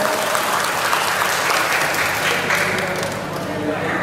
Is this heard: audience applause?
yes